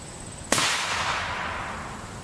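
A single sharp gunshot fired at a Militech NIJ level IV silicon carbide armor plate on an outdoor range, loud and abrupt with a long decaying echo afterward; no one speaks.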